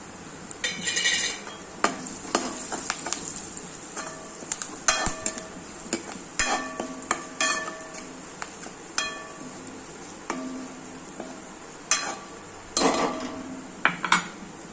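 Curry leaves and turmeric sauté in hot oil in a pan, with repeated sharp scrapes and clinks from a spoon stirring over a soft sizzle, close by and irregular.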